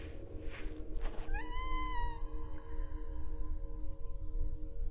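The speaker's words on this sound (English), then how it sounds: "I didn't know like the cat was gonna make such a sad noise" A cat in the video game Stray lets out a single long, drawn-out mournful meow that rises then fades, heard alone over a steady low game ambience hum.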